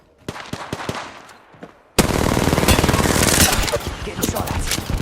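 Rapid automatic gunfire in the battle-royale shooter Apex Legends, loud and dense bursts after a quieter stretch of sparse shots, continuous for several seconds with clattering game effects.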